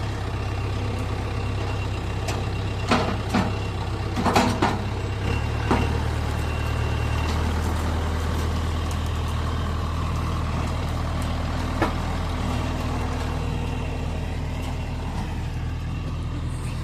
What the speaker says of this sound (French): c'est un bon tracteur nerveux